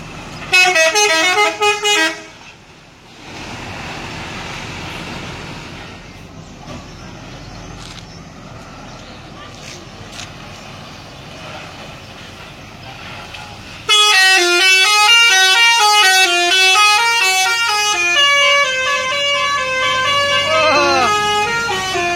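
Telolet musical horns on Padang–Jakarta buses at Muara Bungo bus terminal: loud, stepped multi-tone horn melodies blare up close in two long bursts, with a quieter stretch of engine rumble and crowd noise between them.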